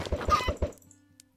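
Chicken in the video game Minecraft clucking four times in a quick, close, even rhythm, followed by quiet game ambience.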